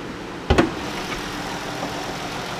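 A 2016 Dodge Grand Caravan RT's 3.6-liter engine idling under the open hood, a steady loud broadband running sound with a brief thump near the start.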